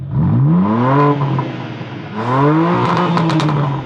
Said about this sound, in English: we have a titanium rear muffler. What does it sound like?